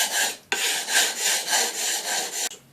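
A chisel slides back and forth across a Carborundum sharpening stone at a shallow 25-degree bevel: about seven even, rhythmic gritty rasping strokes, close and fairly loud, with no voices.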